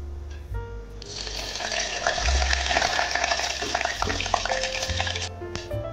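Bay leaf sizzling and frying in hot oil in a pan for Maharashtrian sukka mutton, a steady close crackle with stirring scrapes throughout.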